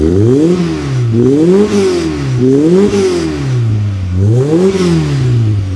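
A Volkswagen Golf 2 GTI 16v engine revs up and down repeatedly, a loud, close, rising and falling mid-pitched drone in rhythmic waves with some mechanical clatter.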